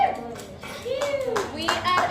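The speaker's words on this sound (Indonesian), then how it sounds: "Tepuk tangan dulu." Brief scattered hand clapping from a chemistry class, mixed with children's voices and chatter over the clapping.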